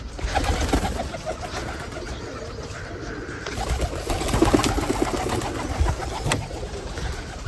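Caged pigeons coo in a low, continuous murmur, several birds overlapping steadily with some rustling and faint clicks nearby, no talking.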